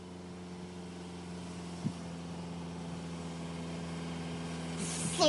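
A 2010 Mitsubishi Outlander XL engine drones steadily in first gear, a quiet, even hum with a small knock partway through and a brief rise at the end.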